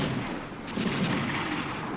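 An artillery strike lands in the strategy game Armored Brigade, a brief muffled rumble of blasts heard at a distance, steady and dull without a sharp attack.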